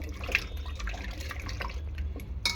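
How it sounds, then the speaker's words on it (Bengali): Sweet potatoes and ordinary potatoes are rinsed by hand in water, giving close, steady splashing and dripping with a few sharper splashes, no voices. "আর এখানে দেখো এই যে আলুগুলোকেও ভালো করে ধুয়ে নেব।"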